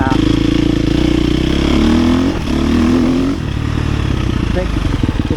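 A 250 or 350 dirt bike engine revs loudly and close up, holding a steady droning pitch with a brief dip midway, under continuous engine noise.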